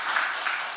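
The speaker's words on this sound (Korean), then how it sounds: "우리 모든 성도들에게 격려의 박수를 한번 돌리겠습니다" A church congregation at an early-morning New Year special dawn prayer service claps together in a short, dense burst of applause, heard alone without talk.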